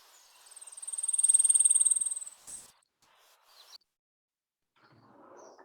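A blackpoll warbler's high, thin buzzy trill rising then fading over about two seconds, followed by faint scattered chirps and a soft noisy rustle at the end.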